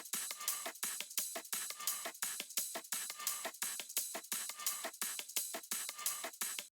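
A cymbal loop in an electronic drum track plays alone, bright washy hits repeating in a fast, steady rhythm, each swelling and cut short, close and even in level.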